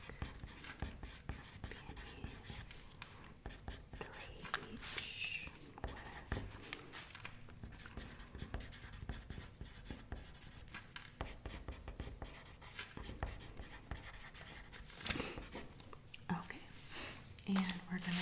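Pen writing down notes on paper in an ASMR wedding-planning setting, a close, soft scratching that runs throughout beneath quiet whispered talk.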